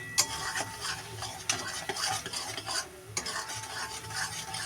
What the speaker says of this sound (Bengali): ভালো করে এটা কষিয়ে নিই তারপর একটু জল দেব